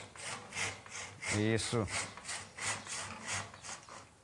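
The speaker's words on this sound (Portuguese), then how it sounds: "o serrote tem que correr livre" A hand saw cuts wood while a carranca figurehead is being carved, with steady back-and-forth rasping strokes at an even rhythm close by. A voice speaks one brief word midway.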